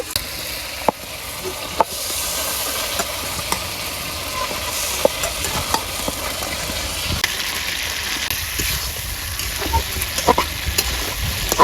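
Vegetable stalks with chilli powder, salt and ground shrimp being sautéed and stirred in a pan, giving a steady soft sizzle with occasional scraping clicks, close and moderately loud, with no talking.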